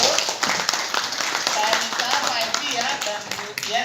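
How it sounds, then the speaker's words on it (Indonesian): Audience members at an education policy focus group discussion in West Sumatra clap together in a brisk, crackling burst of separate hand strikes, while people keep talking over and through the applause. "kita berikan tepuk tangan semua dulu"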